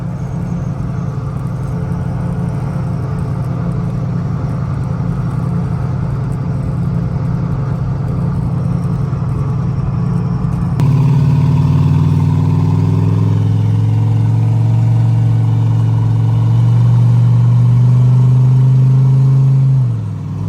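A boosted 2003 Chevy Tahoe drives through an underground tunnel, its engine droning steadily before the tone deepens and swells into a louder, booming rumble as it accelerates, heard from inside the vehicle.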